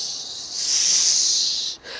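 A giant serpent in a tale of the land of the dead gives a steady, breathy hiss that swells and holds for nearly two seconds, dips briefly, then resumes, close and fairly loud with no talk.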